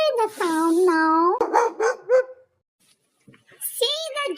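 A farm dog gives a drawn-out whining yelp followed by several short barks. After a brief silence, a voice-like sound begins.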